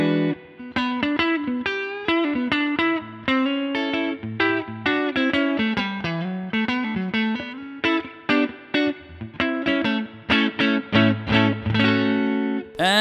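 Clean electric guitar notes and chords through a Souldigger amp on the neck pickup ring out with a touch of amp reverb, played melodically in a steady flowing phrase, alone without voices.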